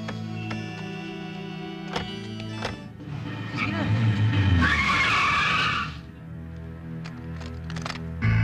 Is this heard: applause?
no